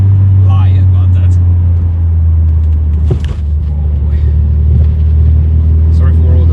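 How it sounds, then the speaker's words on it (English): Inside a Renault Scenic RS on a rough road, a steady loud low road and engine rumble fills the cabin, with faint clicks and rattles scattered over it and a person talking. "Oh, sorry for all the rattles and stuff like that. This is not the greatest road."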